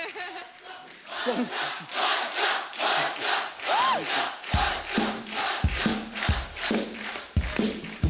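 A large TV studio audience on The Kapil Sharma Show claps and cheers loudly and continuously for a rapper, with whoops and shouts rising over the applause.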